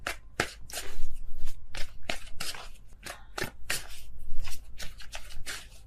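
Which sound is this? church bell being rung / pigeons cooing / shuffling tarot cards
shuffling tarot cards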